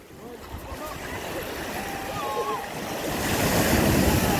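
Waves wash onto a sandy beach, a steady surf roar that swells louder toward the end, with wind buffeting the microphone.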